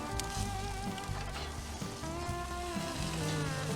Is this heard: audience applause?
no